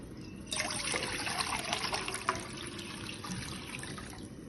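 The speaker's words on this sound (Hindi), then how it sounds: "उसमें डाला है 1 लीटर पानी।" Water pours steadily into a cooking pan, one liter going in for boiling macaroni, a continuous trickling splash that starts abruptly and runs on unbroken at moderate volume with no talking.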